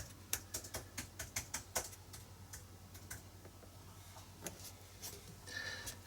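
Rapid light clicking of a computer keyboard being typed on in a quiet room, a quick run of taps that thins to sparser clicks, fairly close and soft.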